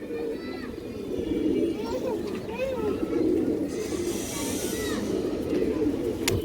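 Pigeons coo in a loft of fancy breeds, a continuous low, rolling murmur from several birds close by while someone talks over it.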